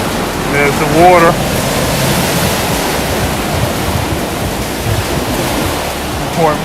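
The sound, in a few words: rough sea waves by the pier at Clacton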